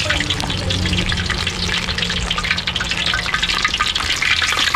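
Chicken drumsticks fried in hot oil for Jollimac-style fried chicken, giving a loud, steady, crackling sizzle that carries on without a break, heard up close with no voices.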